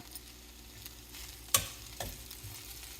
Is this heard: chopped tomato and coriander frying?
yes